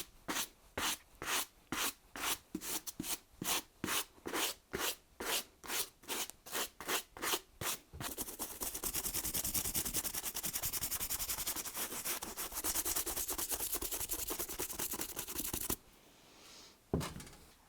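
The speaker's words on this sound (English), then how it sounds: "I take a really small toothbrush and I clean all of the seams, the stitching on the shoe" A small toothbrush scrubs the stitched seams of a leather shoe, first in quick rhythmic strokes, then in a steady continuous brushing rasp, close and fairly loud with no talking.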